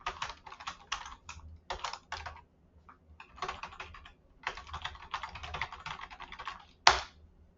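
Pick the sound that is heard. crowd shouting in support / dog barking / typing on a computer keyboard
typing on a computer keyboard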